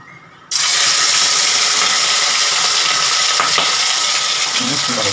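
Chunks of katla fish drop into hot oil for a milk-based Bengali fish dish, setting off a sudden loud, steady sizzle that stays close and constant after a brief quiet start.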